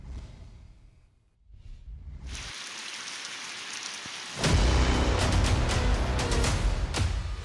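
Heavy rain pours down in Gwadar during a flooding storm. A dense hiss starts after a brief quiet patch and swells louder midway. Scattered sharp splashes and drips ring out close by, with no voices.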